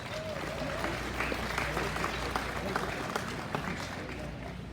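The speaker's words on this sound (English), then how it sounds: "let's give this sponsor a round of applause" An audience at a livestock show claps for a sponsor, with steady applause and scattered sharp claps and a voice underneath.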